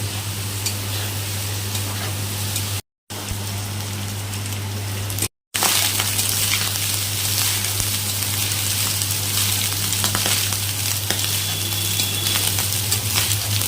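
Rice frying in olive oil in a pan over low heat, a steady soft sizzle running throughout with a constant low hum, briefly cut twice.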